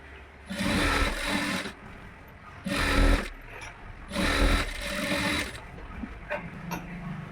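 An electric sewing machine stitches an embroidered blouse in three short bursts of fast whirring, each about a second long, separated by quiet pauses and small handling clicks.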